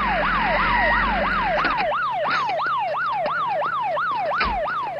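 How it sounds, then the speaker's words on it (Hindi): Fire brigade truck siren wailing loud and close in a city street, a rapid repeating up-and-down whoop that runs continuously, with a deep engine rumble under the first second. "ये पानी की गाड़ी नहीं है, फायर ब्रिगेड है।"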